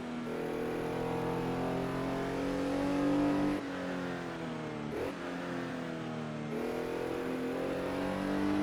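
Race car engine lapping the Sauerlandring 1968 circuit in Assetto Corsa, a steady harmonic drone that rises, drops sharply at gear changes or braking, then climbs again, fairly quiet and with no talking.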